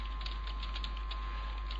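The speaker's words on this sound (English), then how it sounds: "So I can do a little bit of typing here" Soft keystrokes tap on a computer keyboard while entering shell script input, a faint, steady patter under a low electrical hum.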